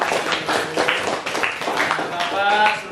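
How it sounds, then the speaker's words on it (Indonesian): Students in an Indonesian Al-Qur'an Hadith class clap their hands in a rhythmic burst, with voices talking over the clapping near its end. "Kasih tepuk tangan untuk"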